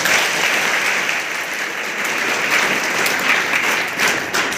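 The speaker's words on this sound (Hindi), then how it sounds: "सबके लिए मैं जोरदार ताली बजाऊं" Steady, loud applause from a school audience at a district children's science congress event, dense clapping filling the whole stretch without a break.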